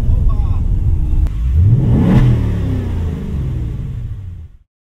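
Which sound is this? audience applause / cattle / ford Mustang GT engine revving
ford Mustang GT engine revving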